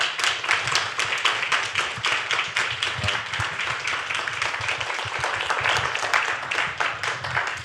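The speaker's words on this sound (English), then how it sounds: "we're going to give these folks a big, healthy applause" After a library book talk, an audience gives loud, sustained applause, a dense crackle of many hands clapping continuously for several seconds with no talking over it.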